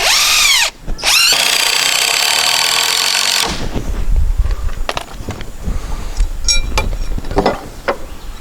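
A power drill drives 4-inch screws into wood while a backyard pavilion is built, a loud close whine rising and falling in pitch, then stopping and giving way to scattered clunks and knocks of handling lumber.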